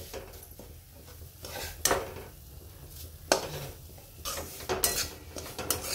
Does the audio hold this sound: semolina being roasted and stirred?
yes